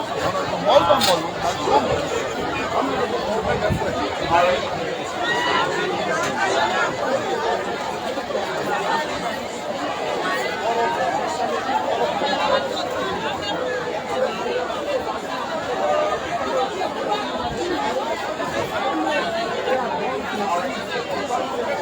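Crowd chatter outside Redemption Hospital in New Kru Town, Liberia: a continuous, fairly loud babble of many overlapping voices, with no single speaker standing out across the whole stretch.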